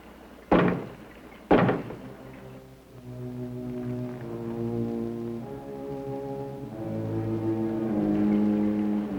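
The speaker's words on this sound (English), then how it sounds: "Knock twice if I'm not the first." Two heavy, sharp knocks on a door in a 1962 horror film, spaced a second apart, followed by low sustained eerie tones.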